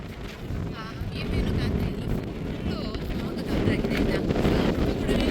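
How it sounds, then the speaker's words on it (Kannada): Strong gusting wind buffets the microphone with a loud, continuous low rumble in foggy, cold, rainy hill country, with voices talking beneath it. "ಅಷ್ಟೊಂದು ಗಾಳಿ ಇದೆ ನೋಡಿ"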